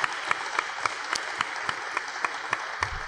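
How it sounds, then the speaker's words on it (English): Sustained applause from an audience, with steady rapid clapping and a few sharper claps standing out, moderately loud throughout. "Give yourselves another round of applause."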